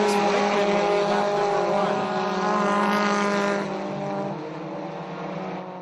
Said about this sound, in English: Here comes Reichman in the 93 to the inside